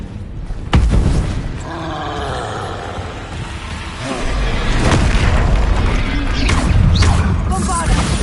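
Magical spell blasts from Bombarda and Incendio in the video game Hogwarts Legacy, with booming impacts and crashing bursts layered over combat noise and a voice, loudest toward the end.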